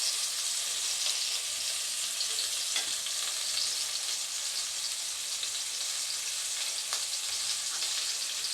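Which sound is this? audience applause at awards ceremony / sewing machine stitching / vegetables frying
vegetables frying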